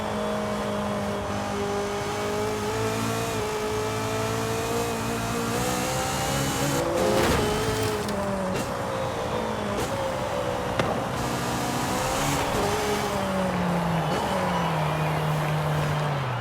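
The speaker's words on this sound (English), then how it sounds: "let's just take a listen to this car." An Acura Integra Type R sports car engine in the video game Forza Horizon 5 revs and accelerates, pitch rising and dropping through several gear shifts, steady and fairly loud with no talking.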